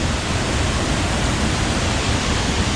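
Roaring water at the Sekar Langit (Bidadari) waterfall, heard from directly beneath the falls: a loud, steady, unbroken rush of broadband noise with no pauses or voices.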